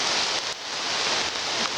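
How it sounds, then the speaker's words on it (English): Steady rain hiss on a hiking trail up Mount Katahdin in Maine, a continuous close wash of drops with no pauses. "It's raining"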